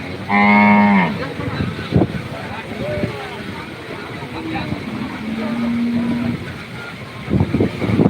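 A loud, close cow moos once at a rainy, muddy cattle market, followed by a busy outdoor crowd murmur with softer animal calls and scattered thumps.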